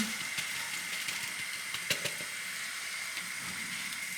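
Carrots, turmeric and rice fry in a pan, giving a continuous sizzle with occasional scraping and clicking of stirring, close by and alone.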